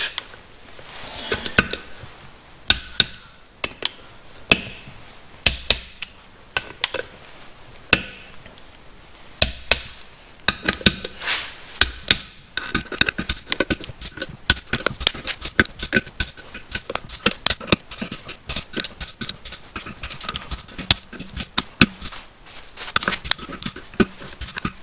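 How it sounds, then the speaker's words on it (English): Bolts on a Mercedes 722.6 transmission valve body get tightened one after another, making close, sharp ratcheting clicks and tool taps in irregular bursts across a quiet workbench. "So all these bolts need to be torqued down to 8 Newton meters"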